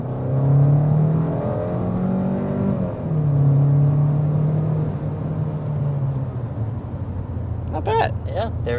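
A 2023 Hyundai Sonata with a 1.6 liter turbo 4-cylinder accelerates, engine drone rising in pitch through gears from inside the cabin, with a brief sharp clatter near the end.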